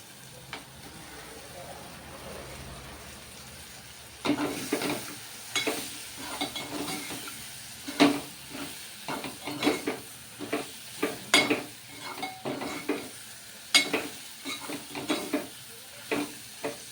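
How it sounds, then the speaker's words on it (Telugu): Okra (lady's finger) frying in hot oil with masala and coriander powder for an egg-and-okra stew, a soft steady sizzle at first, then close scraping stirs of a spoon against the pan, coming in irregular bursts. "ఇప్పుడు బెండకాయలు వేద్దామండి."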